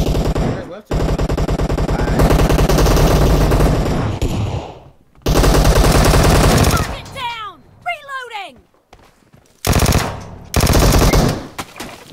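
Rapid automatic fire from an M7 rifle in a team deathmatch video game, with sustained loud bursts, short pauses between them and a few quick electronic whooshes, some of them close together.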